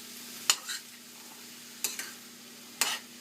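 Drained canned chickpeas (chana) are stirred in a pot over a soft, steady sizzle, with three distinct spoon scrapes spaced about a second apart; no speech.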